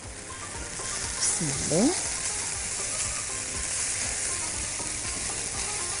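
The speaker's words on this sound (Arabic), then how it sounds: "فتعالوا ناخد بقى الميه المغليه." Boiling water poured into a hot pot of spices and salt for carrot mujaddara, bursting into a loud steady hiss and sizzle, with a brief spoken word early on.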